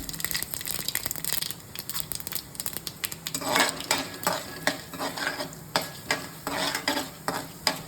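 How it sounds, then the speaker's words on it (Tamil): Mustard seeds and urad dal fry in hot oil for Tamil curd rice, giving a steady close sizzle with scattered sharp crackles and pops that grow busier toward the end, with no talking. "எண்ணெய் காஞ்சிருச்சு, கடுகு போட்டுட்டேன், உளுந்து போட்டுக்கிறேன்."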